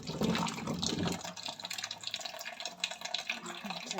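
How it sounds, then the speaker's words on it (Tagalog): Tap water runs and splashes while cassava caked with soil is washed by hand, a close, steady rushing with uneven sloshing, and a voice speaks briefly near the start. "Hugasan ko muna ng mabuti kasi nagka-brown siya"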